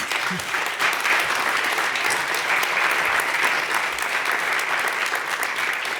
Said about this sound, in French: je vous propose de continuer à applaudir